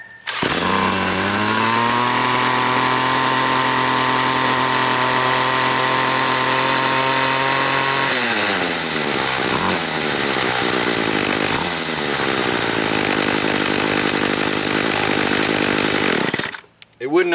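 A small two-stroke weed trimmer engine runs continuously and loudly after a carburetor rebuild, holding a steady buzz before the revs dip and surge a few times in short throttle changes.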